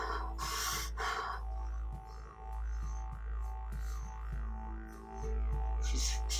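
A deep breath in during a guided breathwork exercise comes as a few close, airy gasping inhales over soft background music, with a stronger breath near the end.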